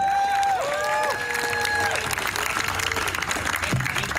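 An audience at an event breaks into applause and cheering, a thick continuous roar of clapping with some whistle-like tones early on, loud and sustained throughout.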